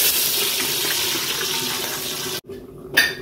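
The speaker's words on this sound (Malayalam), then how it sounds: "നമുക്ക് വെള്ളം ഒഴിച്ചു കൊടുക്കാം." Water pours steadily and fairly loudly into a pot while rabbit biryani is being cooked, a continuous gushing stream that stops abruptly near the end, followed by a brief splash.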